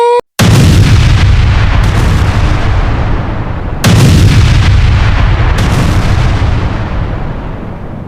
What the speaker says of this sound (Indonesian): Wow, meledak lagi.